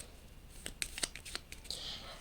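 Tarot cards being shuffled by hand, a quick series of crisp, faint snapping riffles and soft slides, close and quiet with no talking.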